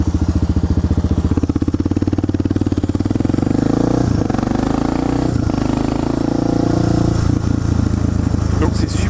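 Suzuki DR 650 supermoto single-cylinder engine running loud and close, a steady pulsing idle that swells into a fuller, rougher drone partway through and holds there to the end.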